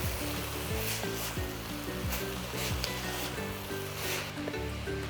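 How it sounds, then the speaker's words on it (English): Papaya thoran sizzles steadily in a pan as it is stirred, a continuous frying hiss with soft scraping strokes and faint low hum underneath, no talking. "Let's give this a good stir."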